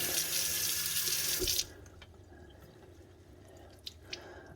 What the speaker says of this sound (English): his butt's going to have to be rinsed. I am wetting Olaf in the process, but he'll dry